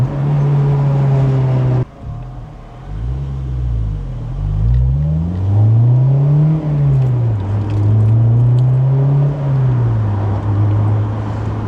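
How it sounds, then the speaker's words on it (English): A high-revving car with a 9,000 rpm redline drives close by, its engine note rising and falling repeatedly as it revs up and settles back, loud and steady throughout. "this car is fun to drive. It just sings because of the 9K red line."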